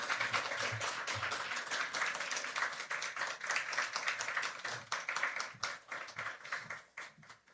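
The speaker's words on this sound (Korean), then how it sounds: "격려의 박수 부탁드릴게요" Audience at an all-generations church worship service clapping to welcome the preacher, brisk, close applause from a modest crowd that thins out and trails off toward the end.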